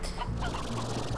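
Hens in the video game Slime Rancher cluck in short, low bursts over a busy, continuous background of game ambience, fairly quiet and with no talk.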